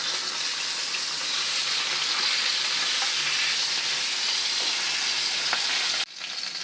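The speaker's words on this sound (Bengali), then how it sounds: "প্রথমে আমি ইলিশ মাছের মুড়ো ভেজে নেব" Hilsa fish heads fry in a pan with a loud, dense, unbroken sizzle close by, which drops suddenly near the end and then resumes more quietly, no one talking.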